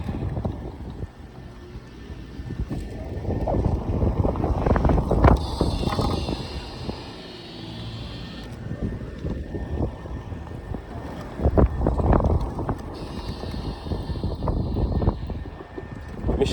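Electro Ride X Plus 4KW electric motorcycle under way, with steady loud wind rush buffeting the microphone and a faint whine beneath, swelling and easing over the ride.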